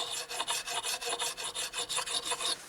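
A blade being sharpened on a wet abrasive stone at a Nordic building site gives quick rhythmic rasping strokes, about a dozen back-and-forth scrapes in under three seconds, close and fairly quiet with no talk.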